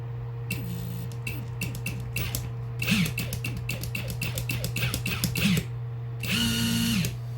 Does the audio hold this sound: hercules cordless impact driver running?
yes